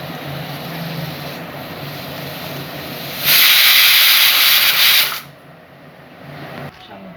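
A pressure cooker of mutton curry and potatoes lets out a sudden loud hissing burst of steam lasting about two seconds over a low stove rumble, then drops back to a quieter background.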